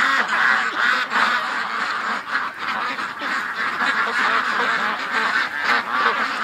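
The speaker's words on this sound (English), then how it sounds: "The ducks are wandering up." Ducks in a backyard pen quack and honk in a dense, loud, overlapping chorus close by, continuing without pause and with no talk over them.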